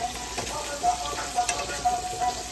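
Food sautéing in a hot pan gives a steady sizzle with faint stirring scrapes and small rhythmic clinks, heard briefly and close up.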